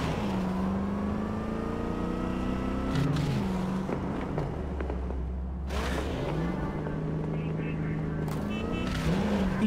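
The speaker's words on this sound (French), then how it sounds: "c'est un vrai petit plaisir le bruit des bagnoles" Car engines in Cyberpunk 2077 droning and revving steadily, with pitch sweeping up and down through gear changes over a continuous rumble, while someone talks over them.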